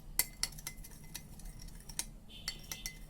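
Onion salad being mixed with mustard oil, with faint metallic clinks and scrapes of utensils against a bowl, a few distinct taps spaced irregularly over a quiet background.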